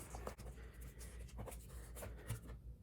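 Paper being creased and folded down at the corners while shaping an origami balloon, giving soft, close rustles and scraping crinkles in a steady run of small strokes with no voices.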